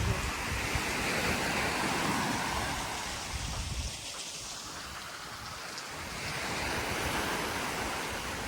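Ocean surf washes onto a white-sand beach on Sesoko Island, Okinawa, a broad, steady roar that dips briefly and then builds again, mixed with wind buffeting the microphone, with no voices.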